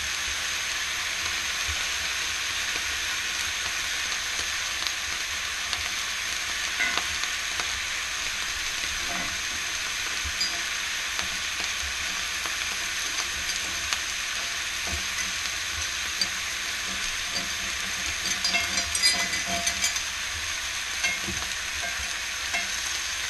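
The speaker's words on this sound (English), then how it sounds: "Let's get a bit of butter in that." Butter sizzles steadily in a hot cast iron skillet, a close, constant hiss with occasional small pops and crackles throughout.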